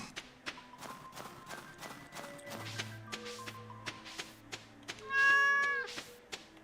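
A cat meows repeatedly in the farming game Stardew Valley, short game-style calls over soft background music and tapping footstep sounds, ending in one longer, louder meow.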